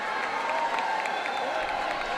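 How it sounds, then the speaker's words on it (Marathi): Spectators at a semi-final cricket match in Ratnagiri clap and cheer in a steady, moderately distant wash of applause. Crowd noise and a faint voice mix through it. "एकदा जोरदार टाळ्यांचा गजर"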